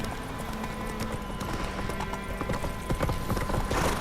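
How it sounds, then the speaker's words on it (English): Steady trotting hoofbeats clip-clop continuously over a busy background of game ambience in The Witcher 3, with no voices. "His horse appears to be a little faster than mine,"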